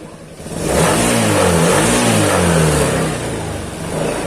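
A Honda Beat motorcycle engine revs up from idle and holds at a steady, loud rising whine for several seconds before easing slightly, a close continuous mechanical drone with no talking.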